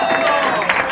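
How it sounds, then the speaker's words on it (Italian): Dinner guests clapping at a restaurant meal, a steady busy patter of applause with cheering and chatter mixed in, fairly loud and close throughout. "Un applauso, dai, oh!"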